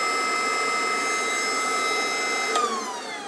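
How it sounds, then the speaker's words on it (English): A cooling fan on a high-pressure air (HPA) compressor runs with a steady, loud whine and whir, its pitch dropping slightly after a brief clunk near the end. "when you switch the fan on"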